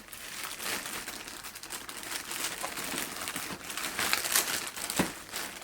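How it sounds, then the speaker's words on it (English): A plastic bag being torn open during the unboxing of a Fanatec ClubSport Wheel Base v2.5 for a racing sim, a quiet, close crinkling and ripping that rises and falls over several seconds, with no speech. "we'll just tear this bag open."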